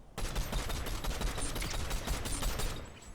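Dense, continuous gunfire from the Fortnite video game rattles almost without pause for about three seconds, rapid overlapping shots at steady loudness before cutting off near the end.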